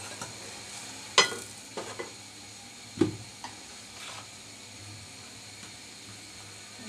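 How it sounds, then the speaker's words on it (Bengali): Spices for chicken curry, cumin, coriander and garam masala powders, are sautéed with a little water in a pan, giving a faint, steady sizzle broken by a few sharp clinks and scrapes of a spoon stirring. "অল্প পানি দিয়ে আমি কষিয়ে নিব"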